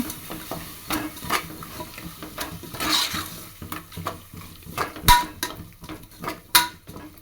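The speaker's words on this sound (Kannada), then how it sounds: "ಇಷ್ಟನ್ನು ಹಾಕ್ಕೊಂಡು ಚೆನ್ನಾಗಿ ಮಿಕ್ಸ್ ಮಾಡ್ಕೊಬೇಕು" A spoon scrapes and clinks against a pan as chilli and turmeric powder masala is mixed, making irregular stirring strokes with sharp metallic knocks over a faint sizzle.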